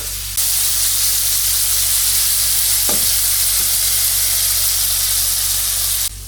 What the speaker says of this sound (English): make sure that you keep your flame high all the time while cooking tomatoes